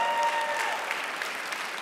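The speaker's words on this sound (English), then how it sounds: "Round of applause." A conference audience at the Guidewire Connections event applauds with a dense, even round of clapping that holds steady and fades slightly toward the end, heard on its own without speech.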